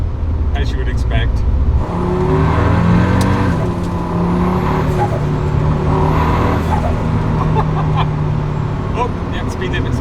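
A KTM X-BOW GT-XR engine drones loudly and continuously while driving, swelling as it accelerates, with a person talking over it inside the car.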